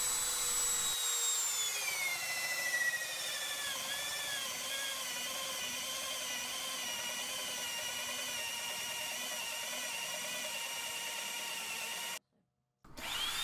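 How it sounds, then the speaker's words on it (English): A Forstner bit bores out the centre of a circular wooden bowl blank, producing a steady, close power-drill whine that shifts pitch as it loads up, then cuts off abruptly near the end. "Then, using a Forstner bit, I remove the centre."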